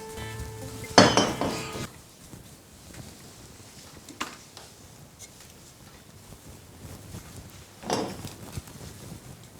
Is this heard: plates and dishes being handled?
yes